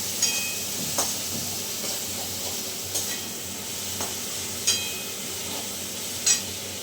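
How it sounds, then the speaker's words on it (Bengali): Onions frying in a pan, a steady sizzling hiss throughout with a few sharp clinks and stirring scrapes now and then, close and moderately loud with no voices. "পেঁয়াজ ভাজাটা কিন্তু হয়ে গেছে"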